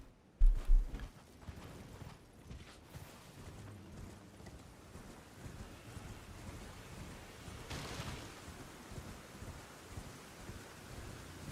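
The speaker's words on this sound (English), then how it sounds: "Now over here, it just be raining. Lots of rain." Rain falls steadily in the Elden Ring video game, a soft continuous wash with a low rumble, preceded by a couple of heavy thumps at the start.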